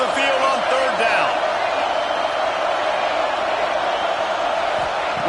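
Home crowd noise in a college football video game, Ohio State versus Florida, on third down: a dense, steady roar of cheering fans filling the stadium, loud and continuous throughout.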